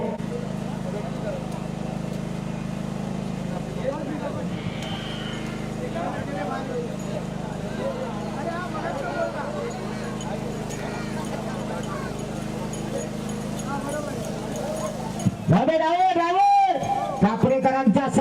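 A pair of bullocks, one native and one Jersey, drum their hooves steadily in a ploughing race behind a loud crowd and announcer-like talk, with a sharp burst of noise and shouting near the end.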